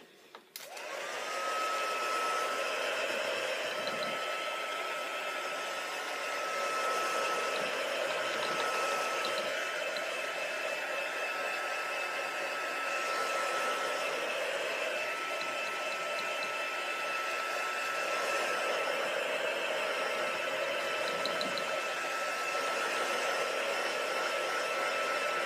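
A dryer runs continuously over a freshly rinsed art journal page, a steady close whir with a faint tone that starts after a brief click and holds evenly to the end, its pitch wavering slightly as it moves.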